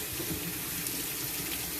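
Steady tap water runs continuously into a sink or tub while a guinea pig bath is being prepared, a constant near splashing hiss with no talk.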